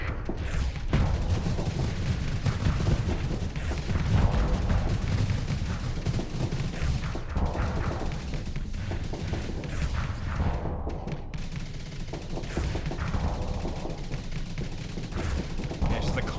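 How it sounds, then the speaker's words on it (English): Relentless missile barrages and weapon fire in the space combat game Starsector, a dense, continuous clatter of shots and booming impacts running the whole way through, with no pauses between volleys. "Constant missile barrage doesn't help though."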